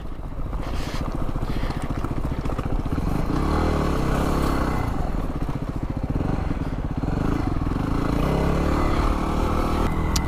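A dirt bike engine running loud and close on a muddy trail, a steady rattling drone with slight revving changes throughout, no voices.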